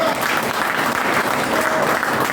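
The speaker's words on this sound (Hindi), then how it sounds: "सिस्टम के लिए जोरदार तालियां चाहिए।" Audience applause at a Safe Shop business plan meeting in Ghazipur City, a dense, steady wash of many hands clapping at fairly high volume throughout, with no break or lull.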